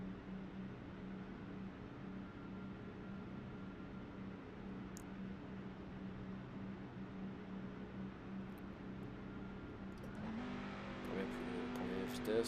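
A racing truck in iRacing idles with a low, steady engine drone under faint, intermittent talk, then revs up louder and higher near the end.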